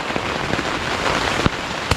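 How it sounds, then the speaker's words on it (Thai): Heavy rain drumming on a campsite tent at Pha Kep Tawan, a dense, loud, continuous patter with a few sharper drops striking close by. "วันนี้ฝนมานะครับผม"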